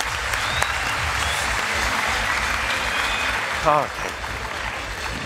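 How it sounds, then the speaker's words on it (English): Applause and cheering for a second-place performer at a talent show with performing parrots, a dense, steady crowd roar with a brief parrot-like squawk near the end. "Ladies and gentlemen, big applause for our second place,"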